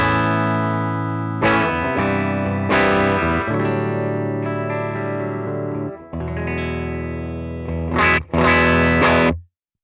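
Electric guitar through the Quad Cortex US DLX amp model set to vibrato bright off, sustained chords with mild crunch and a wobbling modulation, a few long phrases and short punchy hits toward the close, played alone.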